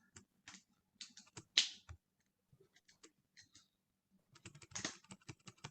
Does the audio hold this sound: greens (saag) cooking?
no